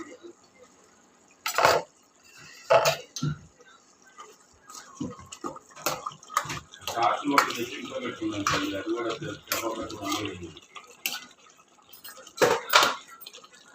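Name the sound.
opening the lid of the curry pot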